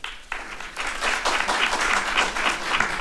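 Applause breaks out at a June 2022 city council meeting after a public speaker finishes, a brief pause then a burst of many hands clapping that builds and holds steady, moderately loud in the chamber.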